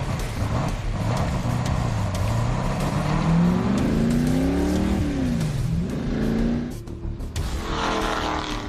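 A 1972 AMC Javelin hot rod engine revs hard on a track, rising and falling in pitch through gear changes, loud and continuous with a brief dip before roaring again.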